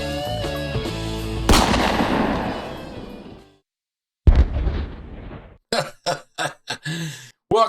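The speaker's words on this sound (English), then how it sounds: "like the sounds of cannons on the horizon" Heavy booming cannon fire rolls out as a sound effect, one long rumbling blast followed by a sharper detonation and a rapid string of shorter explosive bursts, loud and close.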